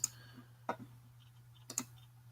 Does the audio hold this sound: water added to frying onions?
no